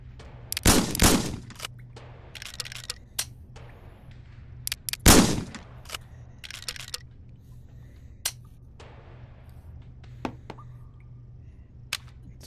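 Sharp virtual gunshots crack in the Gun Club VR game, a couple of loud close reports followed by scattered lighter shots and clicks over a quiet low hum.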